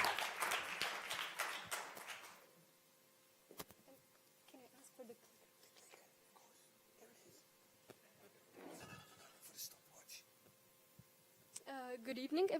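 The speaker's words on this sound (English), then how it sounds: "Yes, and a big round of applause." An audience at a design award show claps loudly for a couple of seconds, then the applause fades out as a presenter begins speaking alone.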